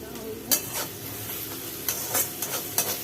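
Onions frying in a pan for chicken bharta, a steady soft sizzle broken by several sharp scraping stirs of a spatula against the pan, close and with no voices.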